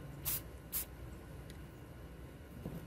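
Rust-Oleum black spray paint hisses onto the area under a vehicle battery in two short close bursts, followed by quieter faint handling noise.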